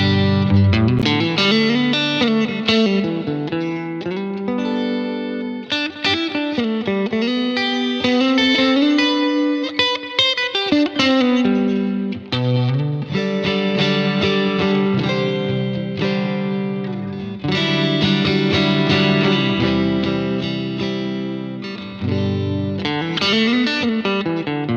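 Distorted electric guitar riff mixing chords with quick scale runs, loud and saturated with a chorus-like shimmer, played alone in repeated phrases.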